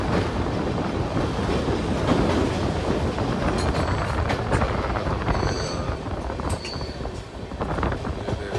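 A train rolls along the rails with a dense, steady rumble and rapid clickety-clack, with brief high wheel squeals near the end.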